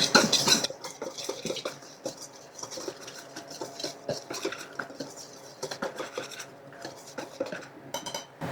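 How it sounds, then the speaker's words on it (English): Whisk scraping and clinking in a bowl as cocoa powder, baking soda, baking powder and salt are mixed dry, a busy close scratchy rattle that runs continuously and fades slightly after a louder start. "Whisk that together"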